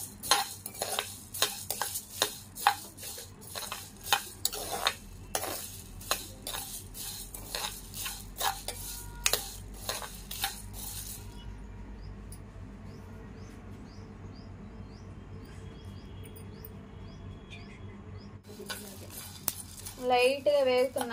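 Whole spices such as coriander seeds being lightly fried and stirred in a pan for a fish curry, with a spoon clinking and scraping against the metal in quick irregular strokes, then a quieter stretch of soft sizzling before stirring resumes.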